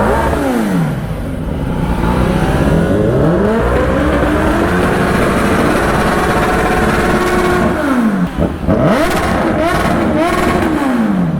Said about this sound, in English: Just hear the exhaust note of 10er.